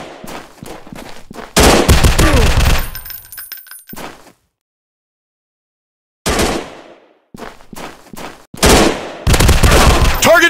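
Guns fire in the Gun Strike War FPS video game: loud close bursts of rapid automatic fire and single shots come in several clusters, separated by sudden gaps of complete silence, with clinking casings between volleys.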